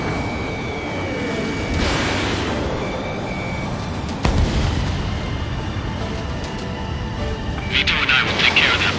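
Missile fire from a jet fighter in Ace Combat 7, a sustained rumbling roar with a sharp burst near the middle, under radio chatter and a steady tone, with a hiss rising toward the end.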